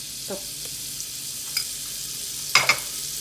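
Butter sizzles softly in a pan as the start of garlic butter rice, a steady close hiss with a few light clinks of a spoon against the pan.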